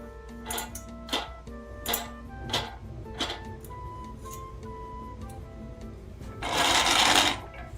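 A cheap grinder milling animal-feed seed into flour: a series of mechanical clicks and ticks, then one short, loud, harsh burst of grinding near the end.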